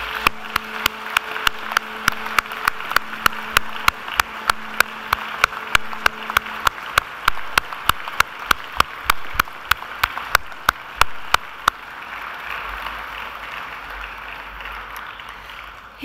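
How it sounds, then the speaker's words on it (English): Applause at a university graduation ceremony, a large audience clapping steadily for families and friends while sharp individual claps stand out near the front, gradually thinning toward the end. "And now please give them an almighty round of applause."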